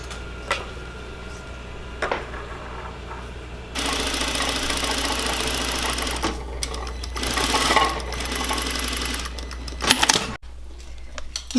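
A sewing machine stitches a narrow quarter-inch seam allowance on a lace gown, running in loud, continuous bursts with short pauses and a few mechanical clicks between runs.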